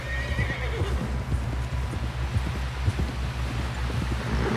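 A horse whinnies over steady clip-clopping hooves in Red Dead Redemption 2, with a soft rustle of wind in the background.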